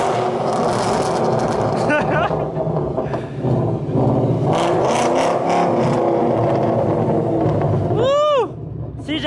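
A Ford Mustang engine revs loud and close for several seconds, a steady roar with rising and falling pitch, as people talk around the car.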